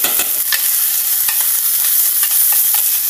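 Tomato paste frying over medium heat in a pan for Haitian patties, a loud steady sizzle close up, broken by several sharp scrapes and taps of stirring.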